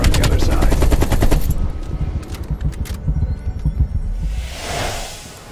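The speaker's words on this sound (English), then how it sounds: "you followed the road right toward the sound of gunfire" Rapid automatic gunfire crackles in a Call of Duty Black Ops Cold War firefight, a loud close burst in the first second and a half, then scattered distant shots and a whooshing swell near the end.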